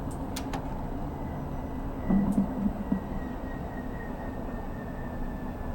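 A Metropolitan Line train in Train Simulator 2020 gives a steady low rolling rumble with a faint sustained whine and a few short clanks near the start, with no talking.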